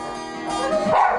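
A Rottweiler gives a single drawn-out, rising bark-like yelp, close and fairly loud, swelling toward the end over a short stretch with no talk.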